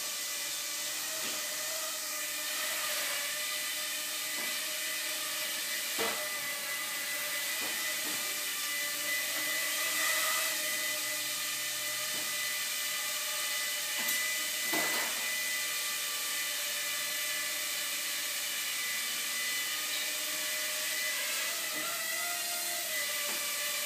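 Walkera QR Scorpion Y6 hexacopter drone hovering nearby, a steady high-pitched whining buzz of its motors that rises and falls slightly with throttle, continuous and fairly loud.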